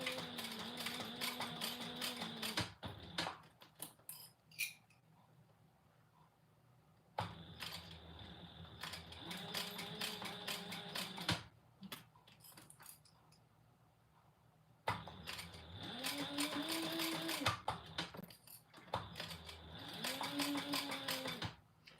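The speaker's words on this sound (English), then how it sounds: "This vinyl sews beautifully, just beautifully." A sewing machine stitches a vinyl clutch with maroon thread in three bursts of rapid, rhythmic mechanical whirring, with quiet pauses between them.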